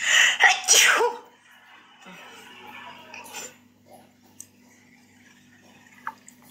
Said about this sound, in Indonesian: Aduh, bentar, aku mau bersin.